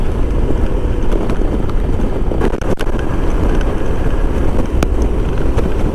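Strong wind buffeting the microphone while riding a 1994 Honda ST1100 Pan European motorcycle on a highway, a loud continuous roar with brief gusty dropouts and no speech.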